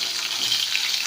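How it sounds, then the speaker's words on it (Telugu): Chopped large onions go into hot oil with spluttering tempering seeds, salt and chillies for a tomato egg curry, frying with a loud, continuous sizzle close by. No voices are heard over the crackle. "తాలింపు గింజలు కొంచెం కలర్ చేంజ్ అవడంతో ఇందులో తరిగి పెట్టుకున్నటువంటి పెద్ద ఉల్లిపాయలు"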